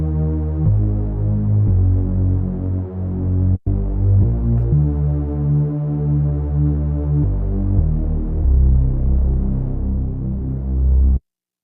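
Dark synth bass played through an analog low-pass filter, cutoff near 500 and resonance raised, throbbing as a series of sustained, loud low notes with a brief cut partway through.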